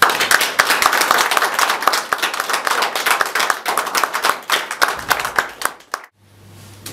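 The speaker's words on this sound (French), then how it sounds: "Et pour les encourager, nous allons les applaudir vraiment généreusement." An audience at a ceremony claps generously and steadily for about six seconds, close and fairly loud, with distinct individual hand claps in the mix, before cutting off abruptly to near silence and a low hum.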